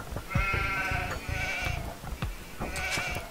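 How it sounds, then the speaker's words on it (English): Sheep bleat in the Age of Empires II HD Edition video game, several short nasal calls repeating over a busy layer of game sounds. "Oh, sheep."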